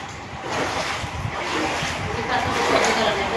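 Floodwater from heavy rain fills a house in Kadri Mohalla, Gurdaspur, giving a steady, dense rushing and sloshing wash with wind-like buffeting that holds throughout at fairly even loudness.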